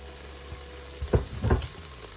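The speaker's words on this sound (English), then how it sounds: "I like to get the spices in the pan, in the hot pan, to activate them and release their oils." Spices sizzle as they hit a hot pan for garden fresh chili, with two short bursts of frying crackle close by over a low steady hum.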